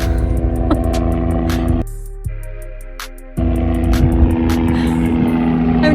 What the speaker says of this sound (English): There's a really loud helicopter above me